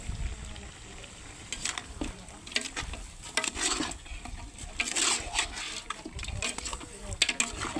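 Pork browning in a pan for pork caldereta, cooked for a birthday: a steady low sizzle and frying hiss with occasional stirring scrapes, fairly close, with a voice speaking over it at times.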